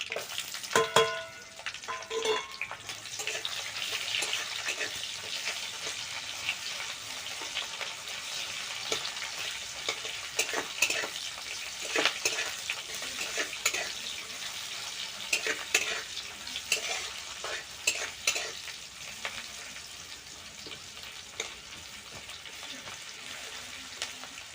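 Chopped onion frying in spluttering mustard oil after mustard seeds pop, a steady crackling sizzle with repeated stirring scrapes against the pan, continuous and close throughout.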